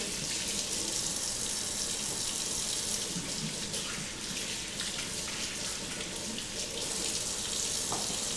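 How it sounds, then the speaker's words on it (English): Hands being washed under a running kitchen tap after handling bacon, a steady, close rush of water splashing into a sink that continues without pause. "wash your hands because you just handled bacon"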